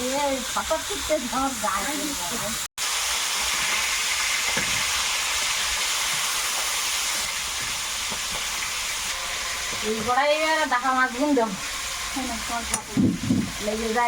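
Gagra fish fries in a pan with a constant, close sizzling hiss that runs throughout, with voices talking briefly at the start and again near the end.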